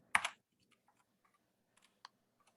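A few quiet computer keyboard keystrokes while typing a print command in a Python notebook in Visual Studio Code: one louder burst of clicks, then sparse, faint single taps spread out with no talking.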